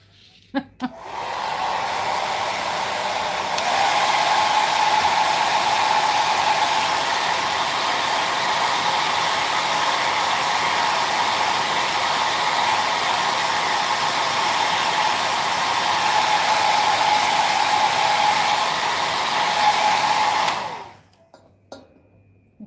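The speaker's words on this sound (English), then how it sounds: "I'm going to use the heat tool, blow dryer, hair dryer, whatever." A hair dryer blows with a steady, loud whir for about twenty seconds, switching on near the start and cutting off near the end.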